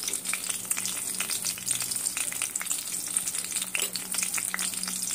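Dry red chillies, cumin seeds, urad dal and fenugreek seeds sizzle and crackle steadily in hot oil as a tempering for an amaranth-leaf and sesame chutney, a dense continuous frying hiss with fine crackles throughout, close and alone.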